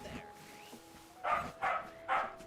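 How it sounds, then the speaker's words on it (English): Three quick, evenly spaced barks from a pet dog named Leto sound up close indoors after some softer whines and small noises. "I do apologize for my dog."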